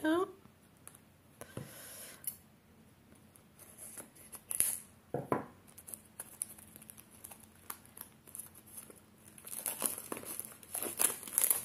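Packaging of oracle card samples from a printer is opened up close, with intermittent crinkling, tearing and rustling of paper and plastic that come in bursts, while a person speaks between them.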